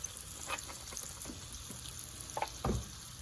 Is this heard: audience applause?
no